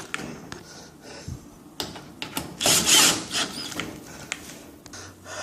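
Screws being driven back into a clothes dryer panel with a power driver, giving short mechanical bursts and one louder whirring stretch in the middle, heard close up with no talking.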